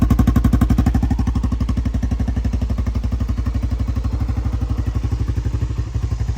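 A vintage 1985 Honda XR350R motorcycle engine idles close by with a steady, even thumping beat and a light mechanical clatter throughout, no voices.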